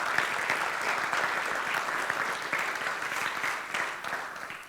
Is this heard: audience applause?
yes